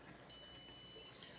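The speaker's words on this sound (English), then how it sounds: "And then you heard the 5 beeps just showing that the car is on." A simulated model car, built as a course project, powers up with high, steady electronic beeping. The tone holds for most of a second, drops out briefly, then returns, sounding close and clear over faint background hiss.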